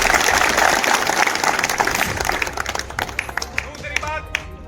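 Applause from a gathering at a cowshed birthday event with a havan, a dense burst of clapping that thins into scattered individual claps, with voices rising as it dies down.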